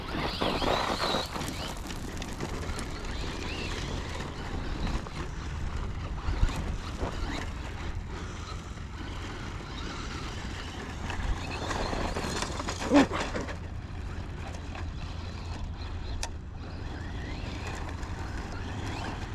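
A two-wheel-drive Traxxas Slash RC car runs continuously outdoors, its electric motor whine steady and moderately loud with occasional bumps and surges, plus wind noise throughout.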